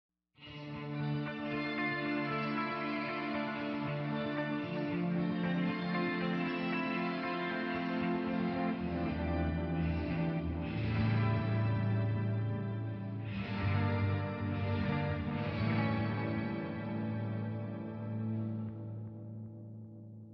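Electric guitar heard only through its wet effects path of delay and reverb from a pedalboard: sustained, chiming chords with echoing repeats and a lush reverb tail that shifts at times and fades gently at the end.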